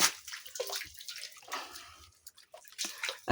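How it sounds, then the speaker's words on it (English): Hands being washed with soap and water outdoors in a village, with close splashing, dripping and rubbing in short irregular bursts. "So I'll have to again wash my hands, because you can see I've touched the suit"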